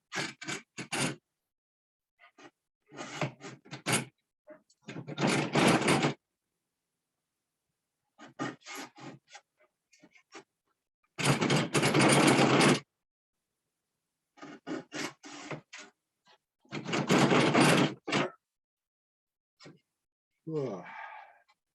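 Rough handsaw cut through a wooden board for a simple loom, coming in loud bursts of rasping strokes separated by silent pauses, with a brief voice near the end.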